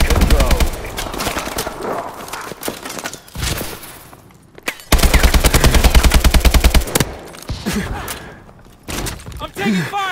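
Rapid automatic gunfire bursts in Call of Duty: Advanced Warfare multiplayer, loud and dense, with a pause mid-clip before sustained firing resumes alongside thuds and battle noise; voices are heard in the mix.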